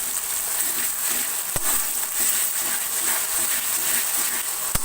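A ginger, garlic and green chili paste fries in a pan for hariyali chicken with a steady close sizzle, and a couple of sharp clicks cut through it.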